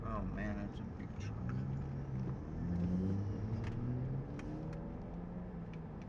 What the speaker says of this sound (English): Oh man, that's a big truck.